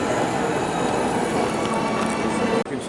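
Model train running on a layout at the Philly Flower Show, a steady close rolling rumble with rail clatter and a faint wheel squeal throughout.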